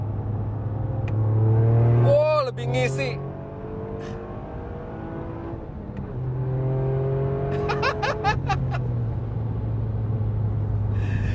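A Toyota GR Yaris weighing about 1.2 tonnes, with a Remus aftermarket exhaust and tuned to about 290 HP, revs and accelerates with a deep droning engine note that rises and falls. Someone speaks briefly over the engine.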